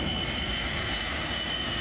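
Engines of an Ilyushin Il-76 military transport aircraft make a loud, steady droning roar with an even whine, unbroken across the short stretch.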